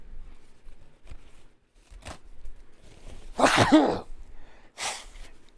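A man sneezes once, loud and close, with a sharp burst at about three and a half seconds, followed by a softer second exhale-like burst; quiet room noise and small rustles surround it.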